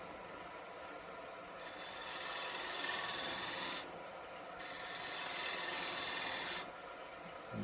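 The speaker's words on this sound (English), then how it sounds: "Using the gouge to shear straight." A spindle gouge shears along wood spinning on a lathe, a steady close hiss that swells and eases in long passes as the cut is worked back and forth.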